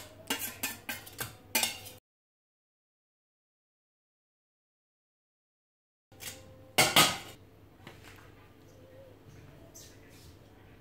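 Couscous steamer pot being emptied in a home kitchen, giving a few quick metallic scrapes and clatters, then a pause, then a louder clank followed by softer rustling and handling noise.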